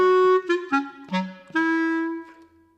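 A clarinet plays a rhythm étude passage with every note tongued, giving a series of short, clearly separated notes. The tone is close and solo, and the last note is held longer before fading.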